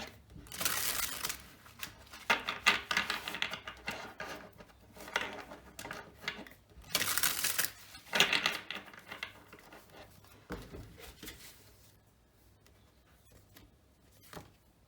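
Oracle cards shuffled and drawn by hand, bursts of crisp papery riffling and slapping that come in several uneven clusters, close and fairly quiet, trailing off into near silence at the end.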